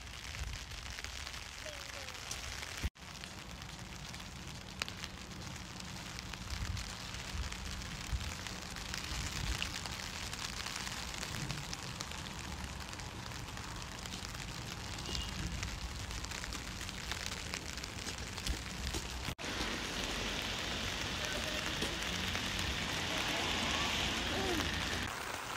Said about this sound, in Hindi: ये कुछ बारिश के हालात हैं इस टाइम